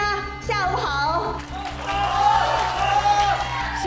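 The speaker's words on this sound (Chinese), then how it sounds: "非常感谢各位的掌声和热情" A crowd claps and cheers at a launch ceremony, with the applause running as a steady bed under an amplified announcer's voice and background music.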